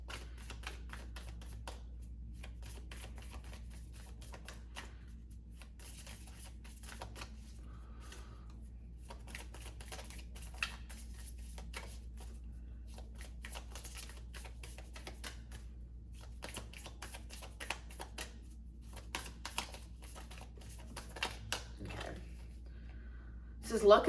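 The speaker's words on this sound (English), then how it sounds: "Hold on, I need to shuffle this more" Soft riffling and tapping of tarot cards being shuffled, repeated quick bursts over a quiet background, with occasional muffled talk.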